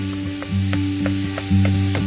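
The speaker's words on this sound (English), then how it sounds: "I'm getting my skillet hot here so that I can get my ground beef to cooking." Ground beef (ground chuck) frying in a hot skillet gives a steady sizzle with a low hum underneath, and the scrape of stirring or chopping recurs every half second or so. No one speaks.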